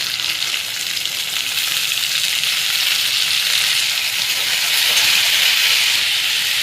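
Chopped yardlong beans frying in a pan with onion and ginger paste, a steady, loud hiss and sizzle that holds throughout and swells slightly toward the end, with no talking.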